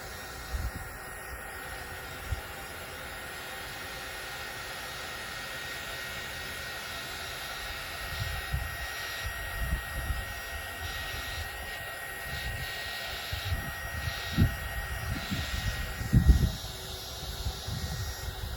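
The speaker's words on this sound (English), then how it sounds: "Go ahead and use the heat gun." A heat gun blows hot air onto a vehicle rain guard, a steady, close whooshing drone with low thumps and handling bumps later on, and no talking.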